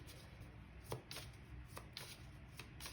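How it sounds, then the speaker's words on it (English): Tarot cards being shuffled by hand for a pick-a-card reading: soft, uneven riffling and tapping strokes at irregular intervals, quiet and close, with no talking. "as I stop shuffling"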